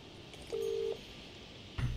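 A single steady dial or keypad tone from a phone booth in a video game, about half a second long over quiet background, followed by a brief low thump near the end.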